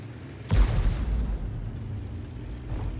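A single heavy cannon blast from an FV207 tank in a video game tank battle, a sharp close boom at the start that rolls off into a long low rumble, alone with no talk.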